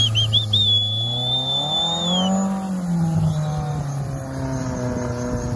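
An off-road trophy-sprint vehicle's engine runs and revs at close range, its tone rising and falling unevenly, with a thin whining squeal over the top and no talking.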